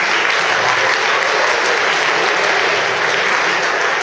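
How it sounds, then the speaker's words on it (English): Steady, dense clapping from a large audience at a high school confirmation and chastity event, loud and continuous throughout with no break. "You can clap for him. Clap for Jeff."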